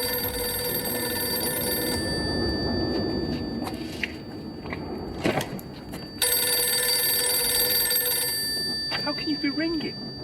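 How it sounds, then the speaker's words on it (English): A telephone rings from a Doctor Who episode, its steady electronic bell tones carrying through the first two seconds and returning loud at about six seconds, with a brief clatter between them. "I love when the Doctor's phone starts ringing"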